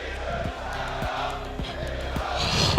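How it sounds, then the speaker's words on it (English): A packed esports arena crowd roars and cheers during the CS:GO ESL Pro League Finals, G2 Kinguin versus Luminosity, a dense sustained wash of voices with a few sharp thumps. "This crowd is so ready for it."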